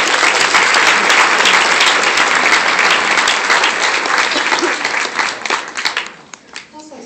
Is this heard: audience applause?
yes